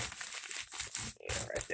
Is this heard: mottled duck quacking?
no